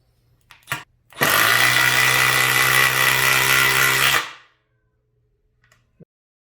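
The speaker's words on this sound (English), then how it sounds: "I do have the M12 1/4 inch impact driver. This is the 2553-20." A Milwaukee M12 1/4 inch 2553-20 impact driver runs in one sustained, loud, close burst lasting about three seconds, with a few brief clicks and handling sounds before and after.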